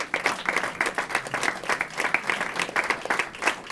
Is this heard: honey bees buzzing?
no